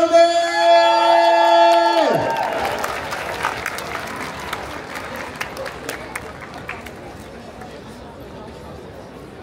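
An audience claps through a celebration of International Jazz Day in Yerevan, the applause building after a held musical chord cuts off, then continuing as a dense, steady crowd clatter with scattered whoops.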